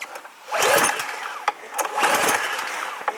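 A small gasoline engine cranks and sputters in two rough bursts, each a strained churning attempt to catch before dropping off, close by and loud with no talk over it.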